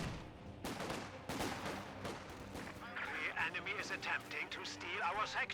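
Infantry gunfire crackles in Company of Heroes 2 as scattered shots and small-arms bursts pop at moderate distance throughout, mixed under continuous spoken commentary and battlefield radio chatter.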